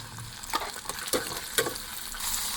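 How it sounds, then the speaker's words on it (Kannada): Garlic sizzles steadily in hot oil for chutney, a continuous close crackle broken by a few sharp stirring clicks and scrapes. "ಕಾಯ್ದಿರೋ ಎಣ್ಣೆಗೆ ಬೆಳ್ಳುಳ್ಳಿ ಹಾಕೋಬೇಕು. ಬೆಳ್ಳುಳ್ಳಿ ಹಾಕಿದ್ದೀನಿ, ಅದನ್ನ ಫ್ರೈ ಮಾಡ್ಕೋಬೇಕು."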